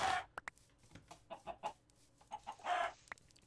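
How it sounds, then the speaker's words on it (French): Chickens cluck in a blocky survival video game, several short clucks and squawks scattered across a few seconds, fairly close and clear with no talk over them. "Ah si, il y a un petit poulet là."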